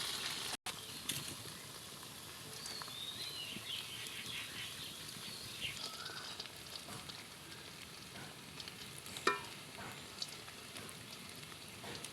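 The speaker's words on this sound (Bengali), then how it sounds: "এবার আমি ডুবো তেলে এগুলো ভেজে নিব।" Coconut mithai balls deep-frying in hot oil in a wok give a faint, steady, crackling sizzle that runs evenly throughout, with a few light clicks.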